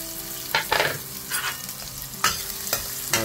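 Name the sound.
onion and ginger sautéing in oil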